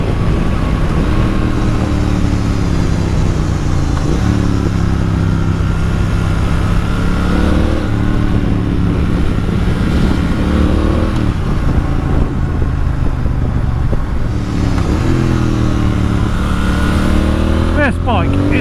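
A 2019 Triumph Speed Twin motorcycle engine revs and accelerates through several gear changes, a steady loud twin-cylinder drone rising and dropping in pitch, with wind noise throughout.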